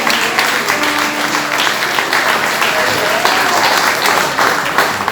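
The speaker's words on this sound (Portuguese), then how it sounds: "Aplauda mais forte o nome do Senhor." Church congregation clapping in praise of the Lord, a loud, dense, continuous round of applause filling the sanctuary for several seconds without letting up.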